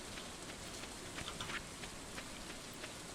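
Steady rain patters throughout in Stardew Valley, a soft, even wash of drops on the ground with no one talking.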